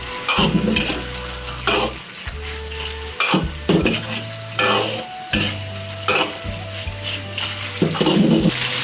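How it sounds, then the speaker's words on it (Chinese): Fish pieces stir-fried with Sichuan bean paste in a wok for sweet and sour braised fish, loud crackling sizzle swelling and easing with repeated gentle tossing scrapes, no talking. "把鱼块分一半出来，倒入锅中，轻轻把它翻炒均匀"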